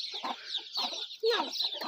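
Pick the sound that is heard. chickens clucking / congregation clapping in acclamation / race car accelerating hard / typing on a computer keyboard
chickens clucking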